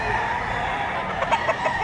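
Chickens cluck in short bursts amid a busy, noisy background, with brief calls from several birds nearby, at a livestock auction market in Padre Garcia, Batangas.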